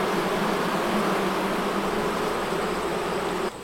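A honeybee hive buzzes loudly and close in a continuous, steady drone that drops off abruptly at the very end.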